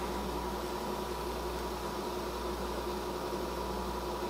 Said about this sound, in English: You got this rolling boil.